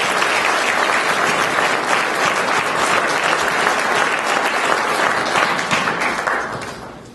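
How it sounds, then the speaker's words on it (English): A large audience applauds at a school-related event, dense sustained clapping filling the room from start to finish, loud and close, then tapering off in the last second. "can we just give a round of applause for the support of them?"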